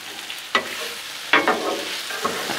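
Cheesesteak meat stirred on a Blackstone griddle, a continuous sizzle punctuated by a few sharp spatula scrapes and clatters, close and fairly loud.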